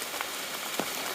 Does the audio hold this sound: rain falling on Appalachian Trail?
yes